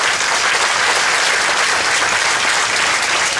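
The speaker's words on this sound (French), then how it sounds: "Et des applaudissements pour M." Audience applause for a guest, Mr. Sarr, a loud, dense crowd clapping sustained evenly throughout.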